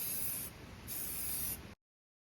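Two bursts of an aerosol spray can laying primer onto pickup truck parts, a close steady hiss, a short pause, then a longer second pass before silence.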